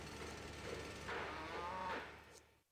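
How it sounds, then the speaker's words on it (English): A cartoonish cow moo from the SimCity 3000 Unlimited video game sounds once, a single drawn-out low bellow that swells in the middle and then cuts off abruptly. "I don't need to hear a cow 50 times"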